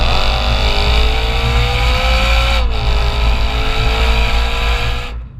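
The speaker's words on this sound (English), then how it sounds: "the high revving rumble of the V8, creates a symphony of bangs and crackles." A BMW M3 E92 Competition Package V8 revs hard through an M Performance exhaust, loud and close, its pitch climbing steadily, dipping briefly, then rising again before cutting off.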